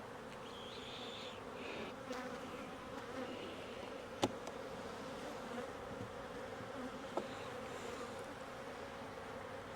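Honeybees buzz around an opened hive during brood chamber work, a dense, steady drone of many insects with occasional faint knocks and clicks of hive equipment, moderately quiet and without talking.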